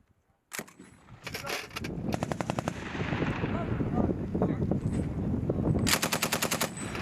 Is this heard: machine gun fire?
yes